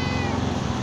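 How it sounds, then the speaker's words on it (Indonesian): A cat meows briefly at a garbage dump, a loud close cry over dense background noise. "kucing di pembuangan sampah kayak begini, mana bisa makan coba?"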